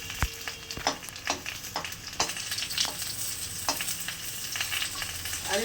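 Potatoes frying in oil with black cumin seeds in a pan, a continuous close sizzle broken by repeated scraping and knocking of a spatula stirring the pieces, no voices.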